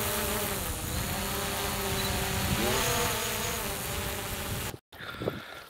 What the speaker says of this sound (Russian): первый полет квадрокоптера Мавика в Коктебеле мною совершен